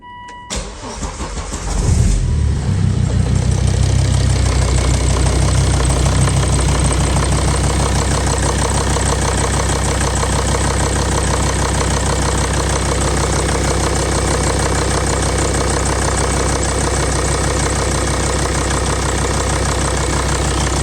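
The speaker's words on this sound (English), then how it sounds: "run the engine" A Volvo D5 2.4 diesel car engine cranks and catches after a thermostat replacement, then settles into a loud, steady idle with a continuous knocking clatter, close up and uninterrupted.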